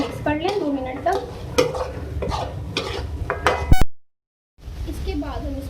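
Mutton karahi being stirred in a pan with a utensil that scrapes and clinks against the metal over steady sizzling, in repeated strokes. A voice talks over it, and a brief silence falls near the end before the sizzling resumes.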